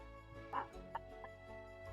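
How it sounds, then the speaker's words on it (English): A dog named Gatsby lets out a few short, moderately close barks and yips amid quiet room noise, with faint talk in the background. "Gatsby, chat does not want to hear you bark, buddy"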